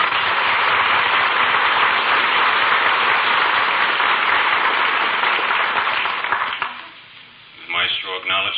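A concert audience gives an orchestra dense, loud applause that runs steadily for several seconds, then drops away sharply as a speaking voice takes over near the end.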